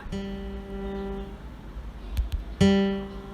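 The third string of a guitar is plucked for a tuner app: a ringing note fades out, two soft taps follow, then the string is plucked again and sustains clearly.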